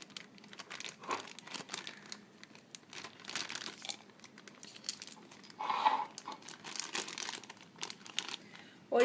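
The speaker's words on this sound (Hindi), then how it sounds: "अब हम जिपलॉक बैग बंद करेंगे" A plastic ziplock bag filled with cookie batter is pressed and sealed close by, giving soft repeated crinkling and rustling with small clicks, fairly quiet with no talk.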